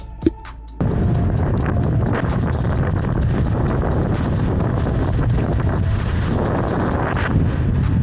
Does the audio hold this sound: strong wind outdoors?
yes